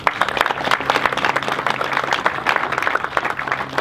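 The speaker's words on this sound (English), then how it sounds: "I'd maybe like to give another clap for Brandon, because he's done so much." An audience at a building ceremony at the Ogden Exchange claps in a steady, dense round of applause, many hands close and fairly loud throughout.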